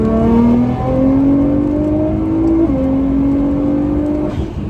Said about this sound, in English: We're just going to do a little third gear roll on.